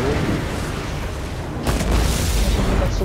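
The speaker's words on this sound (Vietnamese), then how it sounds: "bắn súng thì bắn mãi chưa hết đạn" Gunfire and explosions in the Total War Warhammer 2 battle game: a heavy boom lands partway through over a dense rumbling battle din, loud and sustained.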